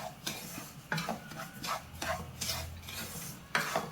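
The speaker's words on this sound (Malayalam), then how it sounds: "ഇതിലേക്ക് നമുക്ക് എടുത്ത് വെച്ചിരിക്കുന്ന 1 കപ്പ് റവ ചേർത്ത് കൊടുക്കാം. ഇത് നമുക്ക് നല്ലതുപോലെ ഒന്ന് വറുത്തെടുക്കണം." Semolina roasting in hot ghee over a low flame, stirred in repeated scraping strokes that give a rhythmic rasping, with a faint sizzle underneath.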